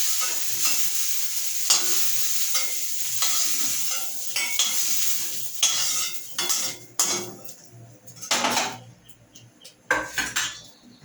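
Soybean chunks fry in oil in a kadai until browned, with steady close sizzling and repeated metal scrapes and clinks of a spoon stirring against the pan.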